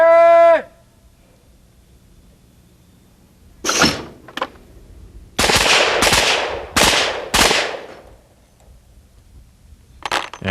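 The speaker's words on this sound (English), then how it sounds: "Now 2 shots at each target." Pistol shots fired at targets, two at each, on a shooting range: a ringing tone, then a lone crack, followed by a rapid cluster of loud, close bangs and one more shot at the end, no talking.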